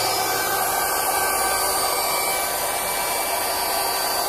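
An electric air pump inflates a car air mattress, giving a continuous loud, steady whirring blow of air close up, unchanging throughout with no voices.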